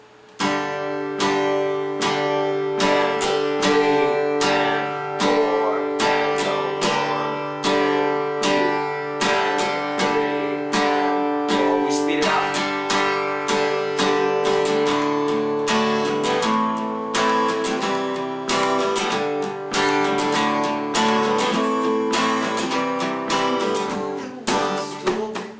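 Steady strummed chords on an acoustic guitar, even down-strokes repeating in a regular rhythm for the whole stretch, close and moderately loud with no voice.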